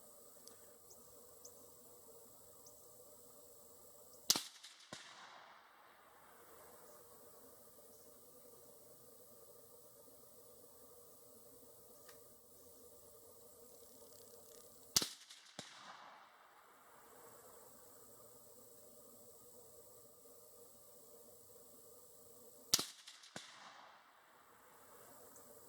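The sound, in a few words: 308 rifle shots hitting a 200-yard steel target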